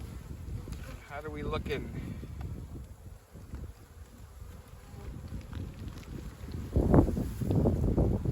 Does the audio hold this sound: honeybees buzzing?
yes